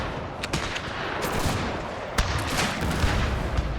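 Battle gunfire from the Total War 30 Years War game: rapid, overlapping musket volleys crackle and pop in dense bursts, with a steady din of combat underneath.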